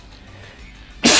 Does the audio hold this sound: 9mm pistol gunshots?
no